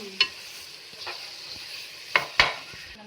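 Onions frying with kasuri methi in a pan are stirred, giving a few sharp scrapes and clinks of the spoon over a low, steady sizzle, close up and with no talking.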